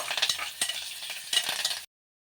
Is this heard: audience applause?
no